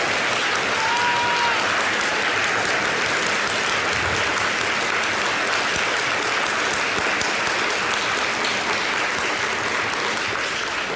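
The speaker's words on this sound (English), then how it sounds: "please join me in a big round of applause for Chris" Long, sustained applause from a large audience at the Seattle Colleges 2022 convocation, thick steady clapping holding at full strength for about eleven seconds.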